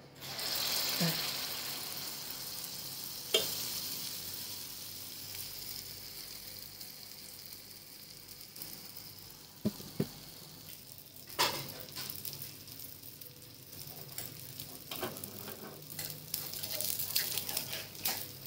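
Dosa batter sizzles steadily in an oiled pan while making soft, spongy bun dosa, a constant close frying hiss broken by a few sharp clinks and scrapes of the ladle.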